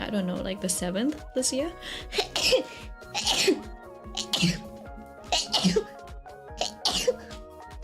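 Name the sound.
sneeze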